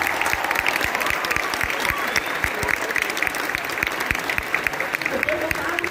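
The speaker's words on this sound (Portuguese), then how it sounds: "recebam com muito carinho, com muitos aplausos, o vereador da cidade do Rio de Janeiro, Alexandre Esquerdo" Steady applause from an audience greeting a Rio de Janeiro city councillor at an event, dense clapping with crowd noise that holds evenly throughout.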